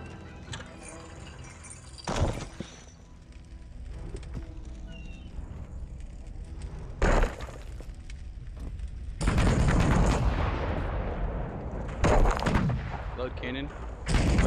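Sail VR warship cannons boom repeatedly in a naval battle, with several loud, sharp blasts spread out over time, some in quick pairs, each trailing into rumbling echoes above a steady game-sound bed.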